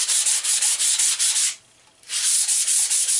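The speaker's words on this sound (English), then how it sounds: "Might as well sand the whole thing while I'm at it to get a nice smooth grip to it." An axe handle being sanded by hand to a smooth grip, with steady rapid back-and-forth rasping strokes that are loud and close, broken by one short pause before the sanding resumes.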